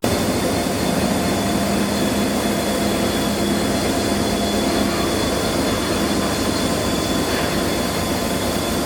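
A Panama Canal Railway train with two locomotives rolls past, a loud continuous rumble and roar of engines and wheels on rails, steady and close throughout with a faint squeal.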